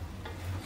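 Sardine broth for Sabah-style sardine noodles bubbling at a boil in a pot, a steady low simmering rumble with faint sizzling texture, brief and fairly quiet with no talking.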